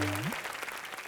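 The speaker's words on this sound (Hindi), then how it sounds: "जोरदार तालियां।" Audience applause at a televised comedy entertainment show, a dense wash of clapping that swells in right after a short musical sting and carries on steadily at moderate loudness.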